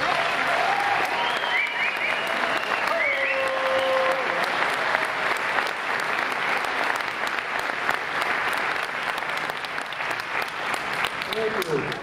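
A theatre audience gives sustained, loud applause for a barbershop chorus at its 2006 annual show, with a few whoops and cheers rising early before the dense clapping carries on evenly to the end.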